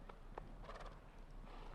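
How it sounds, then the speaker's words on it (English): A very big show jumping horse at the Andalucía Grand Prix gives a few faint hoof thuds and a brief whinny, distant within steady arena ambience. "This a very big horse though."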